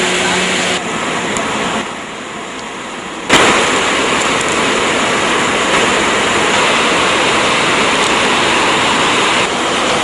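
Water rushes through the opened spill gates of a reservoir in a loud, constant roar. The sound thins briefly, then returns at full strength for the rest of the clip.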